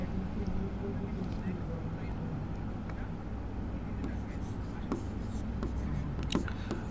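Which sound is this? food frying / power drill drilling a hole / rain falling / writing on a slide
writing on a slide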